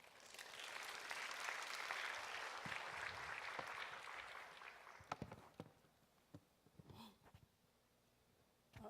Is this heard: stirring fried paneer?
no